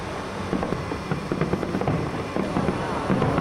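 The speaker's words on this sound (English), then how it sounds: "You can also see the fireworks from down by the river, by the Arno River." Fireworks over the Arno River in Florence, heard from a distance as a dense run of scattered pops and crackles over a steady background rumble.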